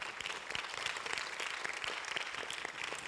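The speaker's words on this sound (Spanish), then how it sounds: "Dar un aplauso al Señor" A church congregation applauds in praise of the Lord during a Spanish-language sermon, a steady, moderately quiet wash of many hands clapping throughout, with no talk over it.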